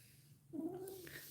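Norwegian forest cat at night giving a short, low growling grumble that rises briefly and trails off, close and fairly quiet over a soft background hum.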